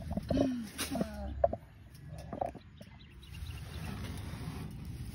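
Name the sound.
chicken clucking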